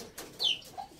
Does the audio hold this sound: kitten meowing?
no